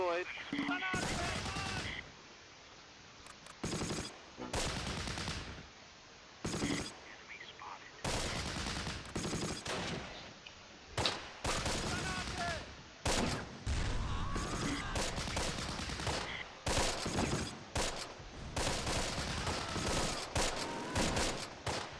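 MG42 machine gun fire in the wartime strategy game Close Combat: Last Stand Arnhem, with long chattering bursts and scattered gunshots in rapid, uneven succession, loud and near, broken by brief lulls.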